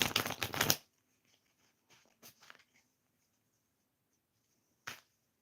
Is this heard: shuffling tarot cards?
yes